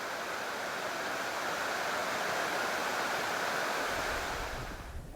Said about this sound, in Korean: 산자락을 타고 내려오는 웅장한 물줄기. 그 소리를 한번 들어봅니다.